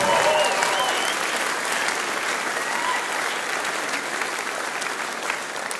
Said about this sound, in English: Please give a big hand of applause to our crew